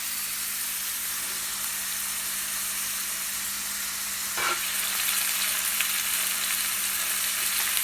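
Meat and mushrooms for Philly cheesesteak sizzle steadily in a hot pan, a dense continuous frying hiss, close and even, with a brief stirring scrape midway and slightly louder sizzling afterward.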